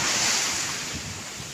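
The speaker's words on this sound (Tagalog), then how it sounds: "ang maririnig mo lang yung alon ng dagat at saka hangin" Ocean waves wash and hiss continuously while wind rushes across the microphone, fairly loud and steady, with no voices.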